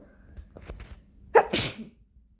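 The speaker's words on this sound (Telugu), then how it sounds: "అనుకోకుండా వచ్చేసింది తుమ్ము." A single sudden human sneeze, close and loud, preceded by a brief sharp intake of breath in a kitchen while a gourd curry with salt and turmeric is being cooked.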